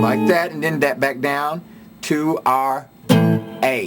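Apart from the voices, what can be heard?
None of the usual background noises is heard.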